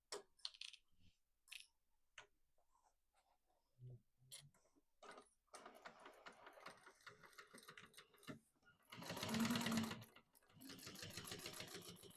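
A sewing machine stitches across a bag strap in a sewing class, its motor whirring in a couple of bursts, the loudest near the end, between quiet handling clicks and taps.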